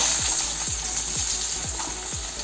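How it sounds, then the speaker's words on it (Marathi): Onion for a Maharashtrian village-style amti sizzles steadily in a pan, with a rhythmic scrape of stirring about every half second over the constant frying hiss. "आपण हा कांदा भाजून घेऊया आधी"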